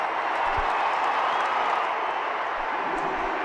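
Stadium crowd at an IPL cricket match between Sunrisers Hyderabad and Royal Challengers Bangalore, a steady broadband roar of applause and cheering sustained throughout, dense and continuous with no gaps.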